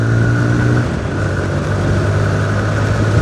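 TVS Apache RTR 160 motorcycle engine revving, a loud, close mid-pitched drone holding steady with a slight dip and rise in pitch across a few seconds, with no voices.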